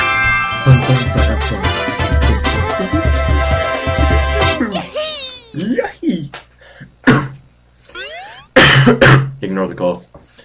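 A man coughs and clears his throat several times, loud and close, in short bursts broken by pauses, after a stretch of video game music and voices from a Super Mario Sunshine playthrough.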